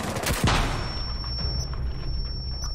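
One loud sniper rifle shot in the video game Rainbow Six Siege, a sharp blast with a booming tail that fades into low background rumble.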